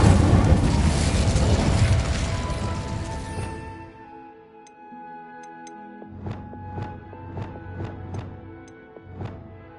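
An Incendio fire spell cast in Hogwarts Legacy on PS5 erupts as a loud, sustained roaring blast that fades over several seconds, followed by a series of sharp, rhythmic bursts with ringing tones and no talk.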